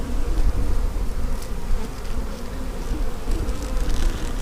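Honey bees hum and drone loudly around an opened hive being inspected, a dense, continuous close buzz with small surges as individual bees pass near.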